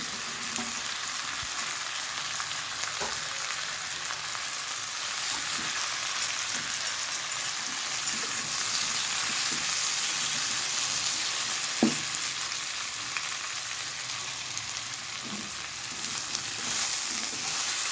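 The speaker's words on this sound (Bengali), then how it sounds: "বেগুন আলু আর একটু ভেজে নেবো" Eggplant and potato with onion fry in a pan, making a continuous sizzling hiss with occasional soft taps of a utensil against the pan.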